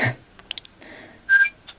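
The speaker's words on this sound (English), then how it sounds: "whistle" Whistle voice effect from the Nintendo DSi sound app, heard as a few short, bright chirps and a sustained whistled tone, close and fairly loud with gaps of silence.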